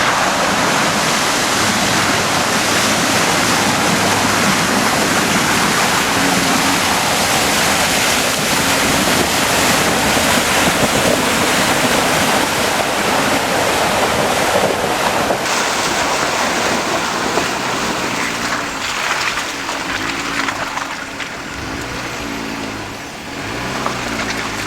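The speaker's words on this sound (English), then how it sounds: "We're gonna tackle this water crossing one more time, but this time I'm gonna do it in 4 high" A Jeep Gladiator ploughing through an off-road water crossing in four-wheel-drive high, a loud continuous wash of churning, splashing water that holds steady, then thins slightly near the end.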